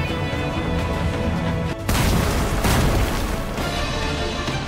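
Grenade blasts in a large-budget Chinese war film battle scene: a dense, roaring wall of sound breaks into a sudden heavy explosion partway through, followed by sustained rumbling and crashing debris, loud and close.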